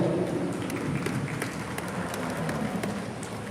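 Faint, steady crowd applause at a junior cattle show after a breeding class, scattered claps blending into a soft continuous patter with no voices.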